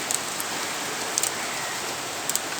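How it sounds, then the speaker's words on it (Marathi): Evening rain falling heavily under dark skies, a steady broadband hiss of rain with a few faint bird chirps breaking through now and then. "पाऊस चालू झाला."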